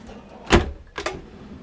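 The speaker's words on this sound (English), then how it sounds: "Look how far out these drawers glide." A full-extension drawer in a 2017 Airstream Flying Cloud 25FB travel trailer slides out in one smooth, close burst, followed a moment later by a softer second rolling rush as it reaches full travel.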